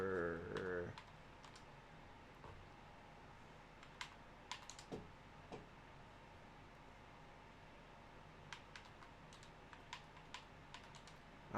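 Keystrokes on a computer keyboard during an Xbox gaming session: scattered, sparse clicks spread across the clip with short clustered bursts, fairly faint against a steady background hiss, with a brief musical or vocal sound at the very start.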